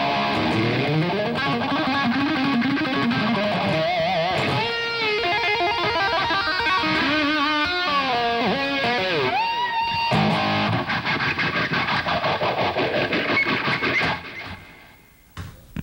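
An electric guitar plays through a phase shifter set to its slowest sweep, giving a loud, distorted lead with bending notes and busy runs that fades near the end.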